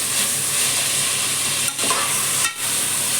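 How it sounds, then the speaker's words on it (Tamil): Onions and tomatoes sautéing in oil inside a cooker for veg biryani, a loud constant sizzling hiss with brief scraping dips as the mixture is stirred. "கூடவே இப்போ கட் பண்ணி வச்சுருக்க தக்காளியும் சேர்த்துடலாம். போட்டு நல்லா எண்ணெயெல்லாம் வதக்கிடுவோம்."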